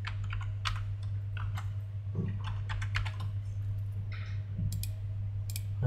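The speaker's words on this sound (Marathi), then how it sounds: "तर मी इथं पासवर्ड चेंज करण्यासाठी क्लिक केलं" Rapid computer keyboard typing and clicks in quick irregular bursts, close and fairly quiet over a steady low hum, while a password is changed in a college MIS profile system.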